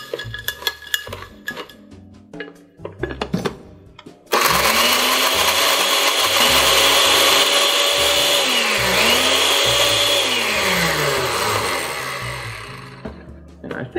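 A countertop blender on its ice-crush setting grinds ice for a Navy Grog cocktail, roaring loud and steady for about ten seconds after some brief clinks and handling, then winding down.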